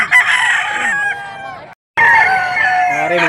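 A young rooster, a stag, crows loudly and close by in two strained, cracking calls separated by a brief gap, with no talk over them.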